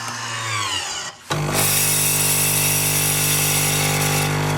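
A BabyNes baby formula capsule machine, heated to 37 degrees, starts up after a brief pause and then runs with a steady, fairly loud motorized hum and whine that continues evenly.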